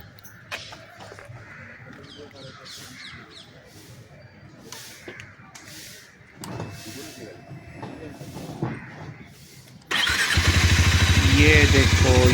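A Harley Davidson X440 motorcycle starts up and its exhaust settles into a loud, rapid firing rumble near the end, preceded by a stretch of people talking over background noise.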